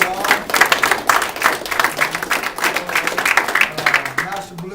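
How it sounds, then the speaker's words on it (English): Audience applause at a post-fight press event honoring a state representative, a dense burst of clapping from a crowd, steady and fairly close, with a voice speaking briefly over it. "Give him a round of applause."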